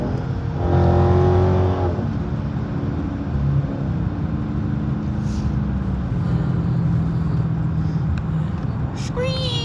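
A car drives past on a road, its engine rumbling and rising in pitch near the start, over continuous road and engine noise inside a moving vehicle, with a voice talking.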